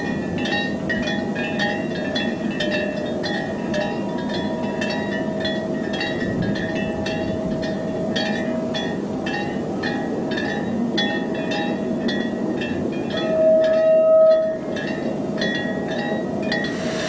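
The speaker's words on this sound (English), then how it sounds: "the pagoda oversees a spot of shunting in the yard below" A Chinese QJ steam locomotive shunts in a rail yard below a pagoda, with a steady rumble, rhythmic clanks and metallic clinks, and wind chimes ringing throughout, plus a brief higher tone near the end.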